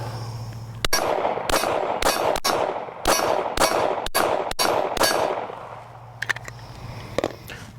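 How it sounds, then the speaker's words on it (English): Glock 48 pistol firing light handloaded rounds, about nine sharp, loud reports in an uneven rapid string, each cracking and ringing out against a steady low hum, followed by faint metallic clinks after the shooting stops. "we're going to keep going with the Glock 48 and some relatively light loads"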